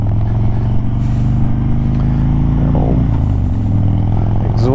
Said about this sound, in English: Oh, exhaust pop.